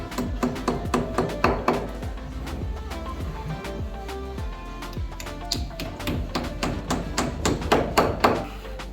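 Window anchors being tapped into place for a uPVC window frame on a beach house build site, a steady run of sharp close taps and knocks that cluster in quick bursts, with faint talk behind.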